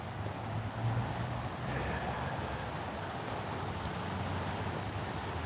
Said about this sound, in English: Oh, it sounds like the creek's running.